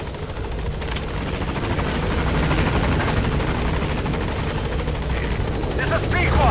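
Helicopter rotor and engine roar from the Pequod arriving at a landing zone in the video game Metal Gear Solid V: The Phantom Pain, a steady loud drone that swells toward the end, with game voices over it.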